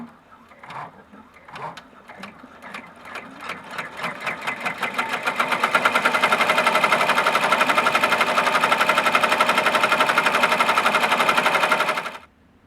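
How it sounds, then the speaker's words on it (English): Embroidery machine stitching a monogram onto a ribbon-loop key fob. It starts with slow, separate needle strokes that speed up into a loud, steady, fast chatter lasting several seconds, then stops abruptly, with no talk. "So go ahead and skip over to your monogram and stitch that sucker out."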